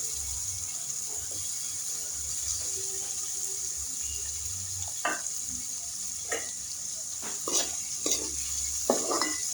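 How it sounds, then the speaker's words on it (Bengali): Tomatoes stirred into a frying mix of egg and onion stalks, with soft sizzling under scattered scraping clinks of a spatula that grow more frequent toward the end. "টমেটোগুলো আমি ভালোভাবে মিশিয়ে নেব"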